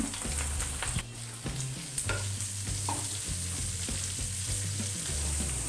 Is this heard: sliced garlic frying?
yes